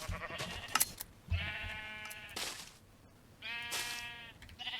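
Sheep bleating at a sheep farm in Minecraft: two clear, drawn-out bleats a couple of seconds apart, loud and close, over faint game ambience and a few small clicks.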